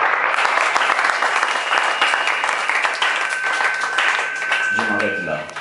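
A church congregation applauds in praise during a French-language sermon, a dense, sustained wash of clapping that stays loud throughout and thins out only at the very end as a low hum creeps in.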